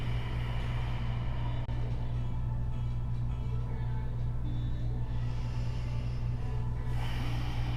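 Deep, slow yoga breathing, filling the belly on each inhale and letting it fall on the exhale. The breaths sound close and soft over a constant low droning hum.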